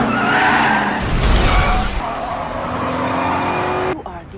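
A car skids with a burst of tire noise and slams into a parked car, a loud crunching impact followed by a brief rumble that cuts off abruptly.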